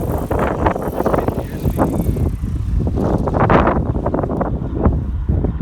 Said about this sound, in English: It'll be kind of hard to hear with the breeze and the wind